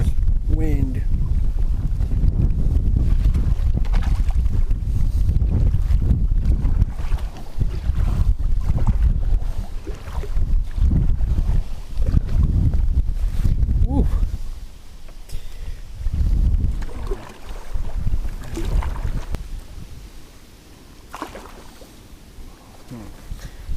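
Strong gusty wind buffets the microphone on open water during kayak bass fishing, a steady low roar that eases in the later part, with someone speaking intermittently over it.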